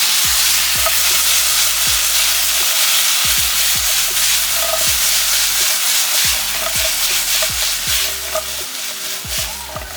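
Home fries cooking in a pan with soy sauce sizzle loudly and constantly, with regular scraping stirs of a utensil against the pan punctuating the steady frying hiss.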